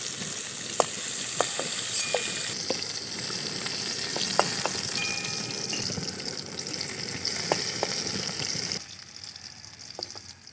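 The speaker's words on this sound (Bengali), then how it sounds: "আমি দিয়ে দিচ্ছি তেলে গোটা জিরে আর শুকনো লঙ্কা" Whole cumin seeds and dried chillies sizzle steadily in hot oil, with a dense continuous frying hiss and occasional sharp crackles and pops, for a home-cooked chicken and cauliflower curry.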